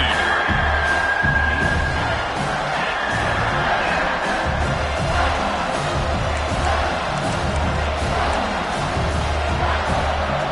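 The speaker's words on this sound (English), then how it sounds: "This crowd rising up, sensing that its defense needs some help." A football stadium crowd at a South Carolina vs Clemson game roars in a dense, continuous wall of cheering and noise, loud and steady throughout with no break.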